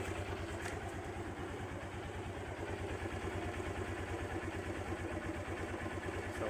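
A Honda XR150L motorcycle engine idles steadily up close, with a continuous low, even pulsing throb that holds without cutting out for the whole stretch.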